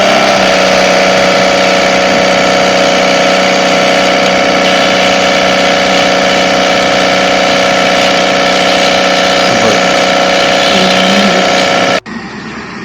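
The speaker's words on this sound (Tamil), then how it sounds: "அந்த ப்ரெஷர் வாஷரை வச்சு இப்ப செக் பண்ணி பார்க்கலாம்" A low-budget pressure washer runs with a loud, steady mechanical hum and droning motor tone close by, cutting off abruptly near the end.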